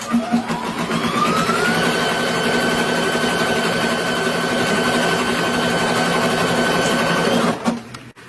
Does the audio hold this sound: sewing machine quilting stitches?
yes